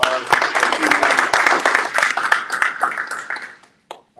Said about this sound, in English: let's clap it up again for our.